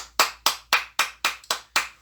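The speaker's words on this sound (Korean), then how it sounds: "하나님께 영광의 박수를 올려드립니다." A church congregation claps together at the close of a worship service, a rhythmic run of seven sharp, loud unison claps spaced about a quarter second apart, with no talking.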